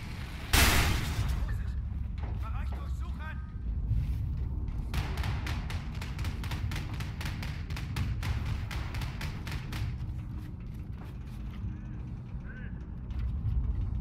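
Gunfire in the video game Wolfenstein II: The New Colossus: a sharp blast, then a rapid burst of automatic shots over several seconds amid quieter game sounds.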